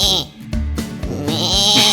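In a children's cartoon, a voice imitates a sheep with one loud, wavering, close baa-like bleat lasting about two seconds, heard alone.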